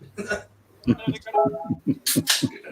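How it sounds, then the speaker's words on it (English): Repeated hiccups from a man tasting a canned beer, about six sharp, evenly spaced hiccup bursts close to the mic, preceded by a brief stretch of his talking. "Damn hiccups."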